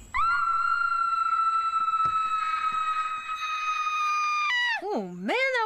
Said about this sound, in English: that white girl can scream